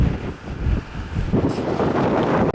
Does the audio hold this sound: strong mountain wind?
yes